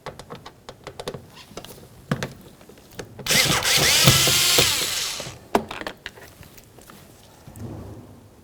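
Power drill running in a steady burst for about two seconds, removing Phillips head screws from the front exterior door handle hardware of a 2003-2007 Honda Accord, with light clicks and handling taps before and after.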